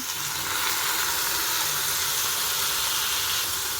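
Tomato is tipped into a hot pan while making a spicy ridge gourd peel chutney, giving a loud, steady, close sizzle and hiss that carries on evenly throughout, with no talking.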